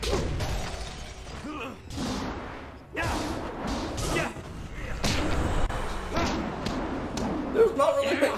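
Ice shards strike the player character in the video game Jade Empire, landing as a series of hard slams and shattering thuds that punctuate a busy, close game mix, with voices present at times.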